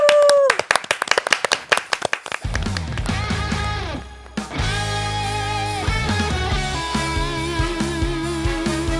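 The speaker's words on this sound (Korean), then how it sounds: "박수로 청하겠습니다" A studio audience on a Korean morning TV show claps in a brisk burst of applause for about two seconds, then an upbeat song's music swells in and continues loudly.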